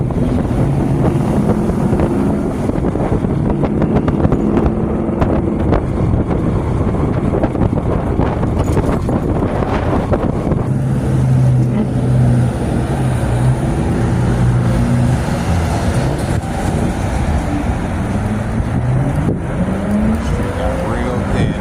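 Car driving at night on a food run, steady road and engine rumble with wind noise throughout, with people talking over it.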